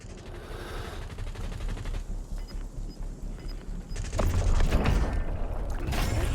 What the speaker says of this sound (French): J'enfile une plaque d'armure.